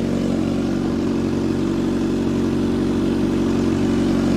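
A 1-liter motorcycle engine, a 2021 Kawasaki Z H2 or a 2022 Suzuki GSX-S, idles nearby with a steady, even rumble that neither revs nor pauses.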